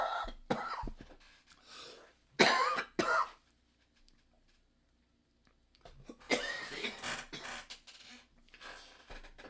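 Repeated harsh coughing and throat clearing at a high school girls' soccer state championship, several loud bursts close to the microphone with a quiet pause in between.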